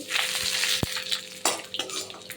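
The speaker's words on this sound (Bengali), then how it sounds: "তেল আমার ধোয়া বেরিয়ে গেছে দেখুন আমি এবার ফোড়ন দিয়ে দিচ্ছি" Radhuni, cumin, bay leaves and dried red chillies drop into smoking-hot oil in a pan, crackling and sizzling close by with a few sharp pops and clinks of utensils, no voices heard.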